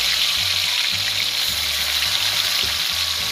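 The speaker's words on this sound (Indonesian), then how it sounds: "Goreng sampai dia garing." Turmeric-coated chicken pieces fry in hot oil, giving a steady, close sizzle that holds level throughout with faint clinks of stirring underneath.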